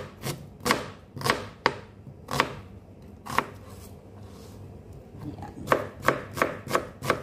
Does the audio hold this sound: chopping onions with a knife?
yes